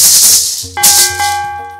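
Bright notification bell ding sound effect, two clear ringing chimes in quick succession over a soft hiss, loud and close with no voices.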